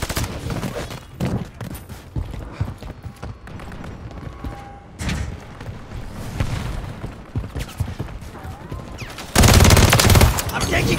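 Gunfire in Call of Duty MW3 fills the scene with rapid volleys of shots and booms, a loud continuous firefight that swells into a dense burst near the end.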